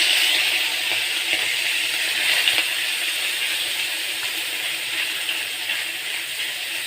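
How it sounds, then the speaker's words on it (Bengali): Small fish fry in hot mustard oil in a wok, a dense, even sizzle that holds steady and close for the whole stretch, with no talking. "এবার মাছগুলোকে কড়াই আগে ভেজে নেব। তেল চাপিয়ে দিয়েছি, এই যে গরম হয়ে গেছে, শুধু ভেজে নেব।"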